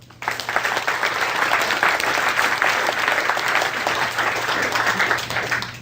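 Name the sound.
applause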